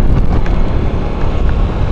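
Strong wind buffeting the microphone on a high view deck above Dinggalan, reached on a motorcycle ride; a loud, continuous rushing roar with no break through the short stretch.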